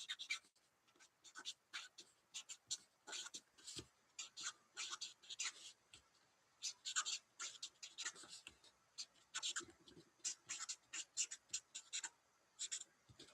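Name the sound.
pencil writing on paper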